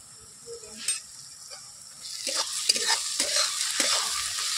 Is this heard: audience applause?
no